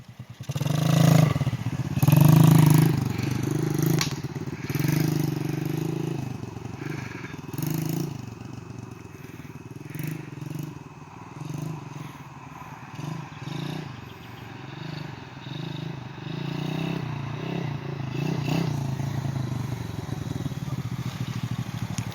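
A 90cc Pantera semi-automatic dirt bike ridden in second gear, its small engine droning steadily with rising and falling revs, loudest at the start and settling into a continuous buzz.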